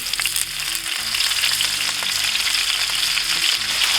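Onions sauté on a hot griddle grill at a smash-burger cook-off, giving a loud, continuous close-up sizzle that crackles without pause for the whole stretch.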